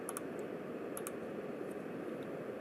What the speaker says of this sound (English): I'm pressing the key on the keyboard, any key.